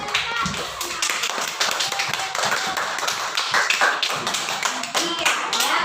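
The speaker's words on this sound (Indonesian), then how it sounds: "Iya, tepuk tangan dulu untuk anak teman kita yang menjawab." A classroom group claps for a student who answered a question, giving a quick, uneven patter of hands close by that continues throughout the clip at moderate loudness.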